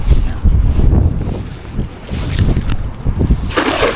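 Strong wind gusting outdoors at a fishing spot, buffeting the microphone with loud low rumbles that swell and ease, with faint splashy hiss in the background.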